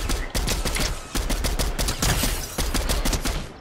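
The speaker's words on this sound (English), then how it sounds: "Whoa, are they shooting from the island?" Video game gunfire, apparently coming from an island: dense, continuous rapid bursts of shots, loud and close, filling the whole stretch without talking.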